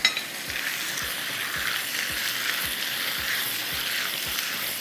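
Chicken frying with ginger garlic paste in a hot pan for reshmi handi, giving a steady, close hiss of sizzling oil punctuated by soft, regular thuds of a spoon stirring roughly twice a second.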